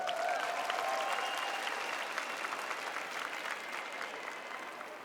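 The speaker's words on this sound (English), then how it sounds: "Let's give them another round of applause." Sustained applause from a large audience, steady and fairly distant, slowly fading slightly, with faint cheering mixed in.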